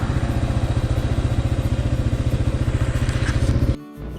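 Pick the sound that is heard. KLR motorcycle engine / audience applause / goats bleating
KLR motorcycle engine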